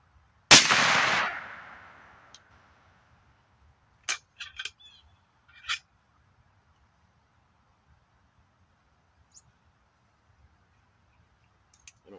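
A single loud shot from a 3-inch .410 buckshot shell fired through an adapter cracks out sharply and fades, followed by a few faint clicks and small handling knocks outdoors.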